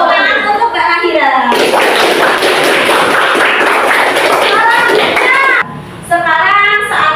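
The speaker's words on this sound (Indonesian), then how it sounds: "Tepuk tangan untuk Mbak Mahira." A fifth-grade class breaks into applause for a student during a lesson, a dense burst of clapping lasting about four seconds, with a teacher's voice speaking just before and after.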